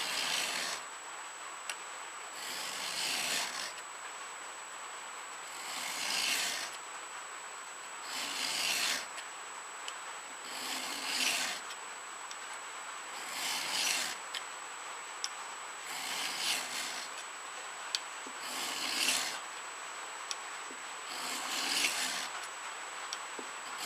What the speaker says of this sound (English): just try to maintain flat level contact with your files